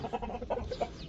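Chickens cluck in short, repeated bursts, several birds close by with a low rumble underneath.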